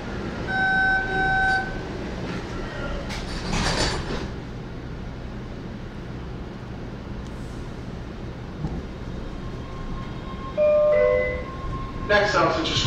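MBTA Red Line 1800 series subway train running between Alewife and Park Street, a steady loud rumble of the car in motion with tonal hums and whines, an electronic chime near the start and brief tones near the end.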